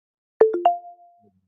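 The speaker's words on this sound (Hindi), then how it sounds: "प्ले साउंड पे क्लिक करेंगे तो अपना फ़ोन ऑटोमेटिक बजने लग जाएगा" An Android phone rings through the Find My Device play-sound feature: three quick rising electronic tones, then a sustained note that fades out, heard alone and fairly clear.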